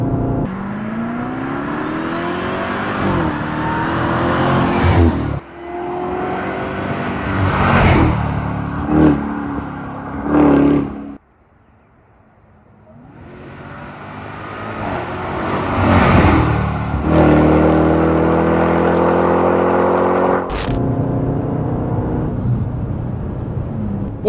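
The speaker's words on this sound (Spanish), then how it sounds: "Oigan el supercargador." Dodge Durango Hellcat with a supercharged Hemi engine revving hard, loud rising and falling engine howls with supercharger whine in repeated bursts, a brief lull in the middle, then another strong rev climbing close by.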